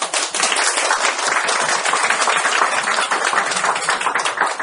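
An audience at a Korean financial-planning seminar applauds in a dense, steady burst of clapping that holds at an even level throughout, with no talking.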